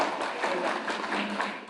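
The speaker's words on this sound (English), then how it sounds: "Please give them a huge round of applause" An audience at a media conclave applauds paper presenters with a short burst of moderately loud, steady clapping that is already under way and carries straight through.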